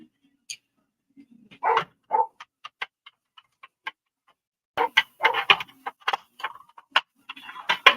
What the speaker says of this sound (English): Yeah, you guys are going to hear my dog.